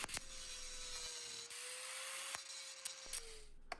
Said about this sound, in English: Here I'm using a cutoff blade and a grinder to make the groove.